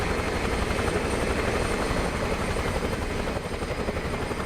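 Huey helicopter in Microsoft Flight Simulator, its rotor chopping steadily and loudly throughout with a dense, continuous engine roar and no voices.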